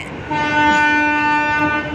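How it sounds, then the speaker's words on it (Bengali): A train horn blares loudly and steadily for nearly two seconds, close by, over the rumble of a train moving off from Howrah Railway Station. "ওদিকে কি ট্রেন ছেড়ে যাচ্ছে?"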